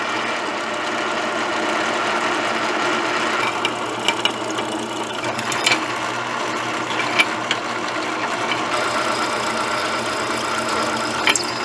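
A power drill grinds through a thick piece of metal, a sustained whirring drone held close with small clicks and bumps scattered through it, and no voices.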